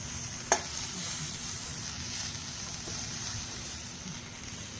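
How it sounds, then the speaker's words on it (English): Diced onions frying in oiled pan outdoors, a steady soft sizzle running throughout with one brief sharp click near the start. "I'm just going to throw in these diced onions real quick"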